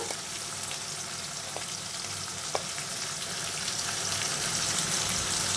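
Ground spices frying in a pan for mutton curry with potatoes, a steady dense sizzle with occasional stirring clinks, continuous and close with no talking.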